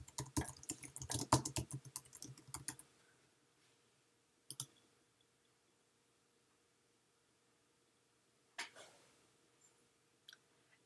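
Bursts of rapid keyboard typing and mouse clicks at a computer, dense at first and then scattered single clicks separated by long quiet gaps.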